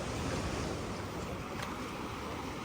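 Sea waves wash onto a beach in Korea at night, a steady, close broadband roar of surf with some wind rushing over it, no voices.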